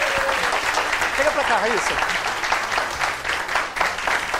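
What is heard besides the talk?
audience applause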